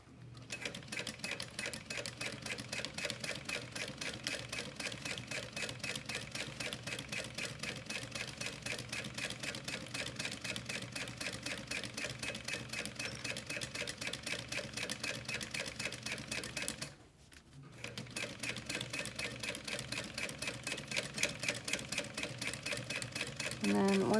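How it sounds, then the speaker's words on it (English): A sewing machine runs steadily as it top stitches through a zipper and its lining, a continuous close mechanical whir with a brief pause near the end before it resumes. "now we're just going to top stitch"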